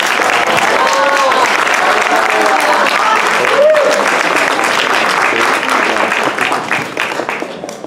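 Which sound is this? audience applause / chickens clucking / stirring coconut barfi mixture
audience applause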